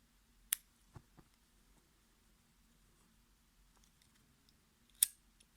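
Two or three sharp, quiet scissor snips close by, cutting thin micro-macramé threads for a medallion, spaced apart in a nearly silent room with no talking.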